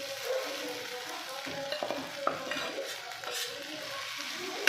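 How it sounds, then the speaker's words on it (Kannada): Pre-cooked okra goes into a hot pan and is stir-fried, a soft steady sizzle broken by the clink and scrape of a spatula against the pan, fairly faint and close. "ಇದರಲ್ಲೇ ಮೊದಲು ಬೇಯಿಸಿಟ್ಕೊಂಡಿರೋ ಬೆಂಡೆಕಾಯಿ ಹಾಕ್ಕೊಳ್ತಿದ್ದೀನಿ."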